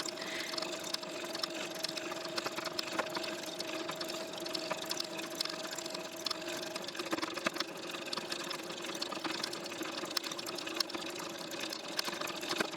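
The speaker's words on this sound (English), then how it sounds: "I just stitch in the ditch to my next stitch across the corner piece right there." A sewing machine stitches in the ditch across an appliqué quilt block, giving a steady, continuous mechanical whir with a faint rapid needle patter throughout.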